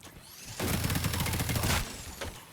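A burst of rapid shotgun fire from the Pepper Shaker in Fallout 76, a dense close rattle of blasts lasting about a second, then a short echoing tail.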